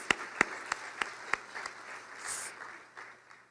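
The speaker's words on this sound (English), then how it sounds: "And I will start that off with an applause." Audience clapping at an awards luncheon, a few sharp distinct claps at first swelling into a brief spread of softer applause that fades out, fairly faint and with no talk over it.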